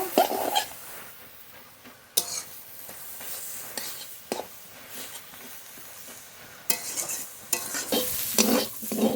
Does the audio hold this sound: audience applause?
no